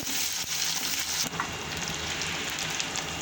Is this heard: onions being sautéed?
yes